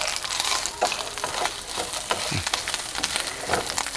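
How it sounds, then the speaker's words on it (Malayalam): Coconut pieces frying in ghee, a steady crackling sizzle with soft scraping stirs and occasional clinks, close and continuous. "നമ്മൾ ഒരല്പം തേങ്ങ കൊത്ത് ആ നെയ്ക്കകത്ത് ഇളക്കുക"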